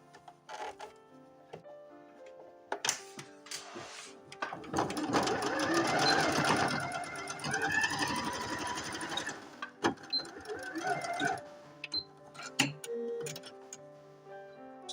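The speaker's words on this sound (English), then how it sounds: "But we're going to sew just a few inches down on the back." A sewing machine stitches fabric pieces for a stuffed Easter lamb in one sustained run of several seconds, with rapid ticking needle strokes, near and clear, with quieter clicks before and after.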